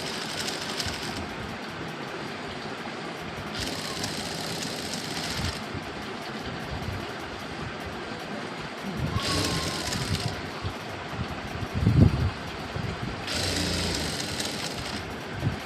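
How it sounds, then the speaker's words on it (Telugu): A sewing machine stitches falls onto a stone-work saree, its motor running in bursts that start and stop several times over a steady background hum, fairly close with no talk. "ఈ గ్యాప్లో అయితే నేను కుట్టు వేస్తున్నాను"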